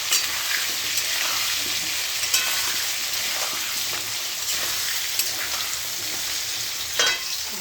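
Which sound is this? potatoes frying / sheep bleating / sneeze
potatoes frying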